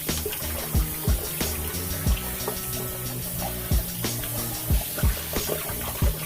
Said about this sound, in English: I also turn on the cold water because that's going to be the next step